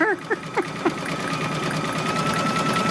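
An embroidery machine stitches a glitter design in a steady, rapid mechanical whir with a rhythmic pulse, close and fairly loud, and a few short voiced sounds come at the start.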